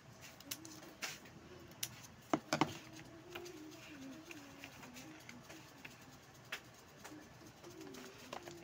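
A pigeon or dove coos softly in repeated low, rolling phrases, with scattered faint clicks and taps in a quiet room.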